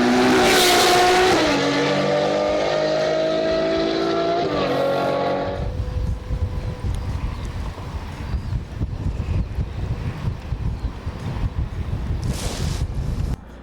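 A racing car engine roars loud and close at a racetrack, its pitch sweeping as it passes, then fades into steady wind buffeting and rumble.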